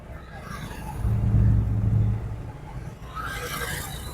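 A car engine under light acceleration during a driving lesson gives a low rumble that swells for about a second, then eases back into soft road and cabin noise.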